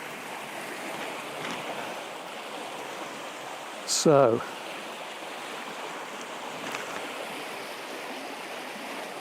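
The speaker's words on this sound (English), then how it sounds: "it's quite noisy here because the flow's coming down over a couple of big boulders" A river rushes over a couple of big boulders beside a riverside path on a dog walk, a steady broadband roar that runs throughout; a brief louder burst of noise comes near the middle, and a voice speaks briefly.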